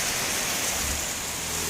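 Heavy rain driven by strong wind in Kampung Satu, Tarakan, a dense, steady roar of broadband noise that stays loud and unbroken throughout, with no voices.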